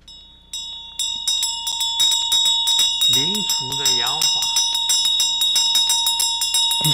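A Vajra bell is rung repeatedly during a teaching at a temple, with bright sustained ringing tones and rapid rhythmic strikes layered over a continuous hum. Brief vocal sounds rise briefly in the middle.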